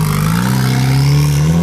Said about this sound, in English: getting ready to take off in the S2K